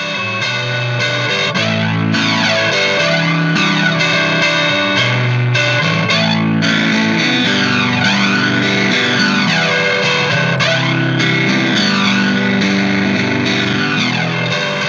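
An electric guitar playing chords and notes through an analog flanger pedal, its whooshing, jet-like swirl rising and falling throughout.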